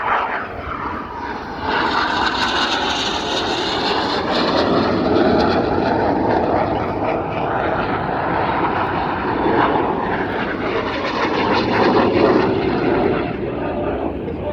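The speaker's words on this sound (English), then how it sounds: "Each aircraft form a barrel, cross the middle before turning hard away from each other." Red Arrows jets roar overhead during a flying display at RIAT, a loud, continuous broadband engine rush that swells and shifts as the aircraft pass, with a commentator talking over it throughout.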